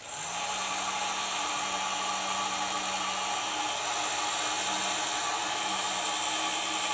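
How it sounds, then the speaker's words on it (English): A heat gun running on its low setting blows a steady, even whoosh with a faint low hum, continuous and close for the whole stretch, used while coiling an electrical cord, with no talking. "And with the heat gun"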